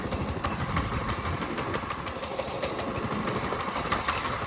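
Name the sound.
car engine idling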